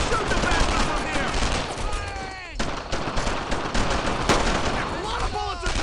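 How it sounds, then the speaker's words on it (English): Dense World War II gunfire from Brothers in Arms, with rapid machine-gun bursts and repeated rifle shots crackling loudly and close, joined by whizzing ricochet-like tones and shouting voices. "A lot of bullets are coming my way here!"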